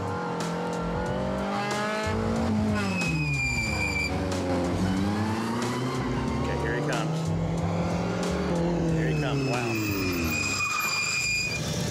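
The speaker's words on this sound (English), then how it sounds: "found her opponent, Rick Rosso, taking his race car out for a spin." A race car is driven hard around a track, its engine pitch sweeping up and down through gear changes as tires squeal loudly and continuously. People talk excitedly over it.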